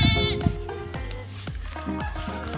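A goat just bought for a farm gives a few wavering bleats close by, a loud one at the start and another after half a second, then quieter calls under background noise.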